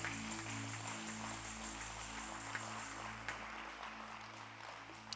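A church congregation claps during a worship service, a soft, distant wash of applause layered over sustained instrumental music.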